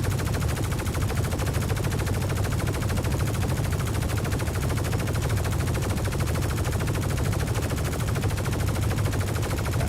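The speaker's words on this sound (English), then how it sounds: "Yeah, we're shooting the leg." Continuous rapid automatic gunfire in Star Citizen aimed at a leg, a dense unbroken rattle of shots with heavy low thump, loud and steady throughout with no talking.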